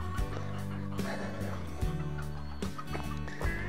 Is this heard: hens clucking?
yes